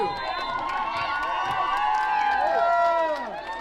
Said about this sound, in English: the crowd gives him an ovation